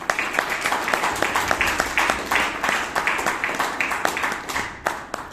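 Applause from a small group at a Toastmasters meeting, a steady patter of many hands clapping at close range for about five seconds, with no voices over it.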